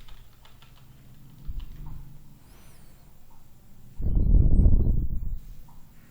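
Keys on a computer keyboard are tapped in a few scattered light clicks, then a short dense burst of typing and shortcut presses, heard close and fairly quiet.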